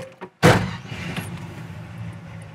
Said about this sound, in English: I don't think you shut your door all the way.